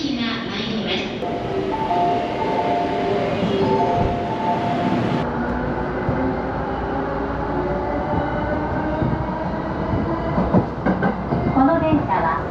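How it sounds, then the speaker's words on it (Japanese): A local stopping train pulls into platform 1 of a small rural Chiba station. Wheels rumble and squeal as it slows, and brakes hiss near the end. A station announcement voice plays over the arrival. "まもなく1番線に各駅停車津軽の行きが参ります。"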